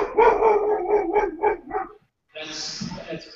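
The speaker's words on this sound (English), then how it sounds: "That's my dog, sorry." A dog gives a loud, close run of rhythmic howling barks that stops briefly and then is followed by a rougher yelping burst.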